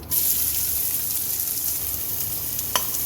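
Finely chopped onion frying in a pan with lentils for ivy gourd masala rice gives a steady, close, loud sizzle throughout, with one brief clink near the end.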